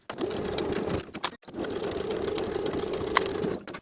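A sewing machine stitches the lower edges of the facings on a Simplicity 8742 cardigan, running in two close bursts of rapid mechanical whirring separated by a brief pause.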